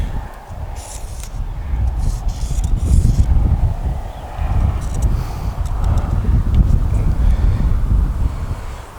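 Strong wind buffets the microphone outdoors in a spring canola crop, a steady, heavy low rumble that swells and eases in gusts throughout, loud and close.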